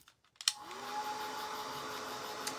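A hair dryer clicks on and blows a steady whirring hum while drying paint on a clipboard, close and moderately loud after a few handling knocks, with no one talking.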